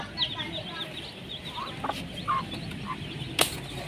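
Scattered soft clucks from chickens, including a hen, near a coop over a steady background hum, with a brief sharper call near the end.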